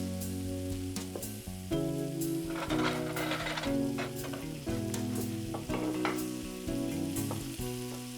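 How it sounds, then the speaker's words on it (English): Greens with bits of tomato cook down in a pan, giving a steady close sizzle and frying crackle over a backdrop of soft, sustained music tones with no voices. "And then this will just cook down, little bits of tomato strewn through it."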